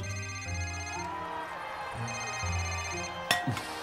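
A telephone rings with a steady electronic tone in a dramatic scene, a repeating ring pattern over an ongoing musical hum that ends in a sharp click.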